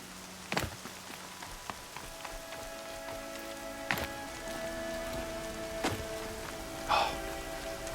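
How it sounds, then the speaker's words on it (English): Wind-blown rain falls in the video game Horizon Zero Dawn: a steady, moderate hiss of rain, broken by occasional sharp taps and a few faint tonal game sounds, with no talking. "The side blowing rain."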